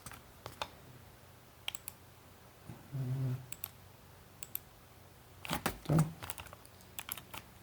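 Sparse clicks of computer keys as a number is typed in, quiet and close, with a couple of brief hums between the taps.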